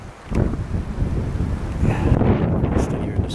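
Steady wind roars across the microphone on a steep, rough logging road in a canyon, a continuous low buffeting rush that swells and holds without a break.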